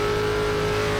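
A next-gen stock car engine in an ARCA racing video game at Charlotte drones loud and steady at high revs, a continuous close-up buzz with no letup.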